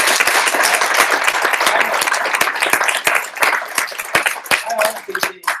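An audience claps steadily for a speaker at a presentation event, dense applause that thins out toward the end as a voice begins to come through.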